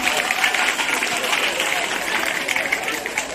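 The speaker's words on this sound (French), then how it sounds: "je voudrais qu'on s'acclame très fort" Audience at a school award ceremony applauds loudly, a continuous wash of many clapping hands with some crowd murmur mixed in, sustained and fairly close.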